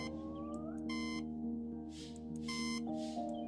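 Repeated electronic alarm clock beeps from the video game Until Then, two bright bursts of rapid tones over a steady musical drone, fairly loud and clear.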